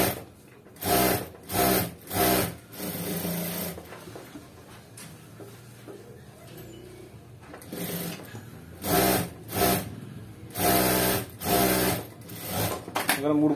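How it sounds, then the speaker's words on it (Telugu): A sewing machine stitches a blouse in short repeated bursts, several loud runs separated by pauses, with a quieter stretch of rubbing and handling in between and no voices. "మూడు కుట్లు వేసాం అలాగే ఆ సైడ్ కూడా మూడు కుట్లు వేసుకోండి"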